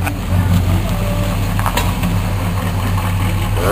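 Chevelle SS396 with a big-block V8 idling, a steady low rumbling engine note heard fairly close and moderately loud with a brief clatter midway.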